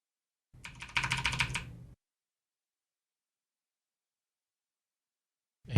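A short burst of computer keyboard arrow keys being tapped rapidly, close and crisp, lasting about a second and a half before silence.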